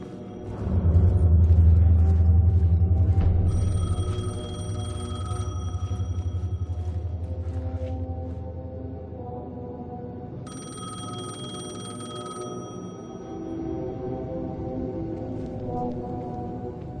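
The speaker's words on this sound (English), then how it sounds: "payphone was ringing." A payphone rings repeatedly in the Alan Wake 2 video game, bright bell bursts in two bursts over a deep, loud rumbling drone, with no voices.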